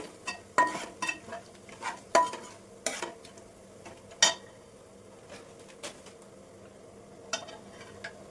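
Whole spices fry in oil in a pan for fish biryani while a metal spoon stirs and clinks, giving irregular sharp taps over a faint sizzle.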